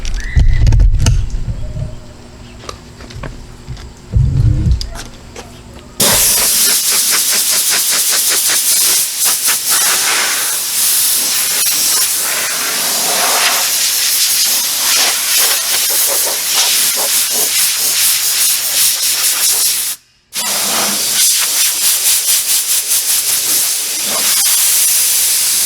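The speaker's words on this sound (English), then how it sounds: "Let's see how easy it is to blow dry this now with this wax." A loud, steady rushing hiss of an air blower drying the waxed paint of a Jeep Grand Cherokee runs continuously, briefly cutting out once before resuming, after a quieter opening with low rumbling.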